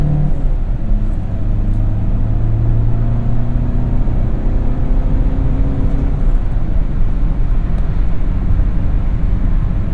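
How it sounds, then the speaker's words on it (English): A 2016 VW Touran with a 2.0L TDI diesel and 6-speed manual drives along, heard from inside as a steady loud engine drone and road rumble that holds even throughout, no speech. "A little bit of wheel spin. This is a diesel. It's got lots of torque."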